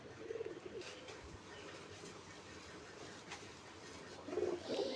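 Pigeons coo softly in low, rounded calls at the start and end while being hand-fed grain mix, over a steady background hiss and faint distant rumble.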